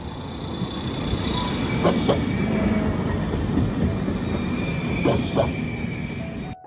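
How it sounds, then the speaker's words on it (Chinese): A Kaohsiung MRT metro train rumbles past nearby, making a steady rolling roar with a couple of brief squeal or clack accents before it fades abruptly at the end. "高雄捷运即将进站"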